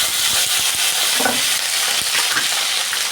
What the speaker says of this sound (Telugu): నూనె కాగిన తర్వాత అర టీ స్పూను పోపు గింజలు అలాగే సన్నగా పొడవుగా కట్ చేసుకున్న ఎనిమిది పచ్చిమిరపకాయలు కడిగిన కరివేపాకు